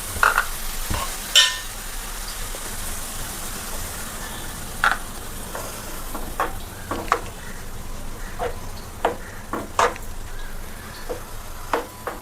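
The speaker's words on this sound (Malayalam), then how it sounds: "നമുക്കിതൊന്ന് ഇളക്കി കൊടുക്കാം" Ground coconut paste being stirred into a simmering fish curry, a steady low sizzle with irregular scraping and knocking strokes of a spoon against the pan, close and moderately loud, with no talking.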